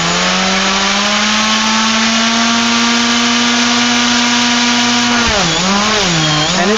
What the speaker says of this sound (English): You're going to hear the motor turn on.